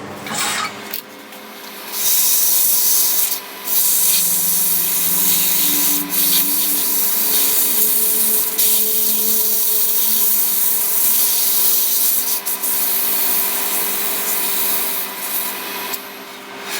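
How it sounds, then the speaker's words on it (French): Continuous rasping of sandpaper over a small wooden table-top spinning-top Christmas tree, steady strokes close up and loud for most of the stretch, with brief pauses between passes and no talking. "on va pouvoir poncer un petit peu ça"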